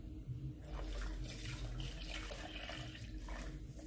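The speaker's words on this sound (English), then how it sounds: "you pour that into the blender" Sea moss soaking water gushes from a container into a blender jar, a steady, full pour that runs continuously for several seconds, close and moderately loud with no talking.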